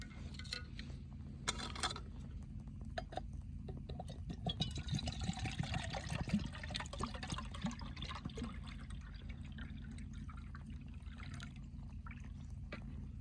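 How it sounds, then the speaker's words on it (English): Water is poured into a cup in a World War II foxhole setup for making coffee, a faint trickling and splashing stretch of several seconds over a quiet outdoor background. "I'm gonna go ahead and pour some nice cup of water here."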